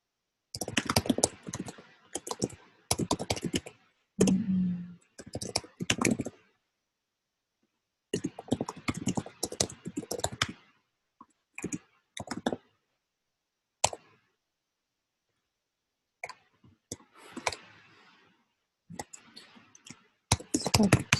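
Someone types on a computer keyboard while writing a code test, producing bursts of rapid, close clicking keystrokes separated by short pauses and silent gaps.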